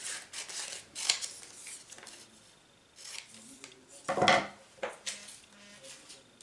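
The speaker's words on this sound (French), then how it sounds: "on découpe les textes" Scissors snipping through paper texts, a close series of crisp cuts and rustling paper handling in irregular bursts, with one louder sweep of paper near the end and quiet gaps between, no voices.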